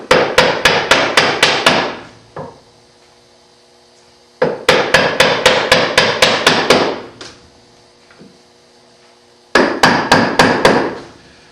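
A wooden mallet strikes a chisel in quick bursts of about eight to ten sharp, loud knocks each, with pauses between, while dovetails are hand cut in wood.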